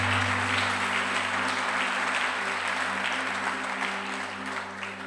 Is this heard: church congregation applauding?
yes